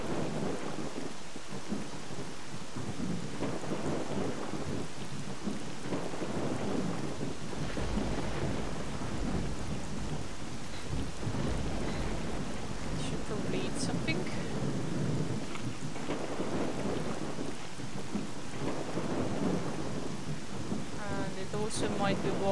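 Thunder rumbles and rain pours steadily through a stormy night in the Pripyat zone of a survival shooter, a continuous loud wash with deep rolling swells and a few brief sharp tones near the end.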